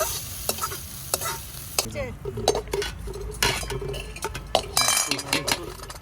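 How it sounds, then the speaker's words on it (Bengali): Spice paste frying in a pan while being stirred for khichuri made with Gobindobhog rice, with a continuous sizzle broken by repeated scraping and clinking of a metal spoon against the pan. "এবার খালি মশলাটা কষে নিলেই হয়ে যাবে"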